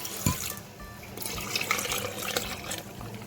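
Water poured for homemade mint lemonade, a soft continuous trickle and splash running close by for a few seconds, with no one talking.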